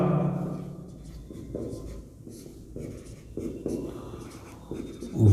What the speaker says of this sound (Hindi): तो सबसे पहले मैं फॉर्मूला लिखता